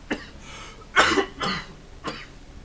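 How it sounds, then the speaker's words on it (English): Person coughing in a run of sharp, close bursts, about four of them, spaced unevenly over a quiet background without speech. "I do apologize about the coughing"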